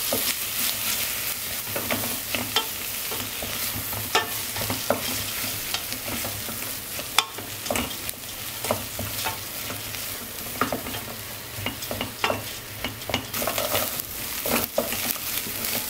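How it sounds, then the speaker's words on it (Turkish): Onion and rinsed grain being sautéed in a pan, a soft steady sizzle broken by frequent scraping and tapping stirs at an irregular rhythm, close and fairly quiet, with no voices. "Şimdi 5 dakika kavuracağım."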